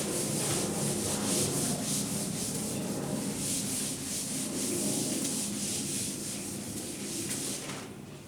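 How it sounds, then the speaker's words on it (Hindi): An eraser rubbing out written calculations to clear space during a physics lesson, a continuous close scratchy rubbing with faint stroke rhythm and no talking. "तो मैं यहाँ स्पेस का मैं इसको रब करता हूँ"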